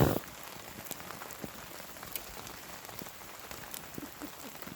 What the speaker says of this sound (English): It's almost 8 o'clock, and the rain's getting heavier